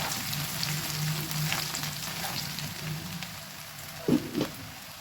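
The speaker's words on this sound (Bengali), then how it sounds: "পেঁয়াজটা একটু হালকা করে ভেজে নেব।" Chopped onions sizzling in hot oil in a pan, a steady close frying hiss throughout, with a couple of brief clinks or stirs near the end.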